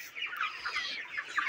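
Broiler chickens about 29 days old on a farm cluck in a busy overlapping chorus, steady and close for a moment, with no talking.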